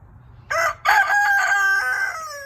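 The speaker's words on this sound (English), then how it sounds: "He's standing up there crowing." A rooster crowing nearby on a hot day, one loud, close cock-a-doodle-doo with a brief break after the first note, then a long drawn-out call that tails off.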